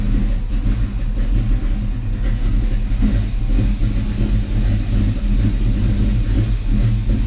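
A car engine fitted with a Holley Sniper EFI 550-511K fuel injection system, run after sitting unused for a while: a loud, steady close-up rumble at idle with slight rises and dips in revs, no talk.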